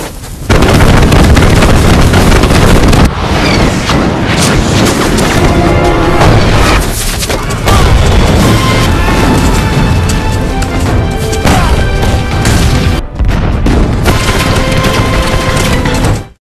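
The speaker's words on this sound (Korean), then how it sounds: "폭발력이 더해진 중신기전을 준비해 발사합니다" Singijeon rocket arrows, Joseon-era gunpowder rockets with added explosive power, launch and blast in a historical war film, giving loud continuous booms and crashes with whooshing bursts and ringing tones over a dense battle soundtrack.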